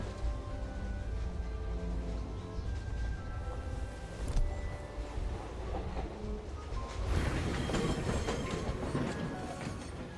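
Tram running on rails in the adventure game Syberia: The World Before, rumbling steadily with rhythmic clacking and faint tonal hums, swelling louder partway through, with no one speaking.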